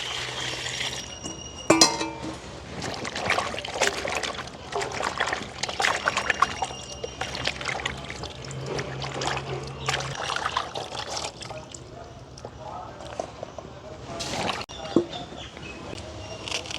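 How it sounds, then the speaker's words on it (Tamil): Cleaned leafy greens being washed in water for vada, in a village setting: close sloshing, dribbling and splashing in irregular bursts, with faint insect chirps in the background. "துப்புரவாக்கி எடுத்த மிரக்கறி எல்லாத்தையும் கழுவி எடுப்போம்"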